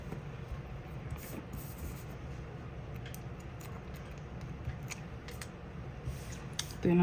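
Scissors cutting paper to make journal inserts, a run of quiet close snips and rustles at an even pace, with soft handling noises and a voice speaking at times.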